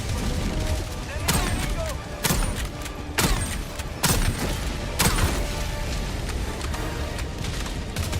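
Orbital barrage strikes in the video game Helldivers 2 land as a string of sharp, heavy blasts about a second apart amid ongoing gunfire, with a voice talking underneath.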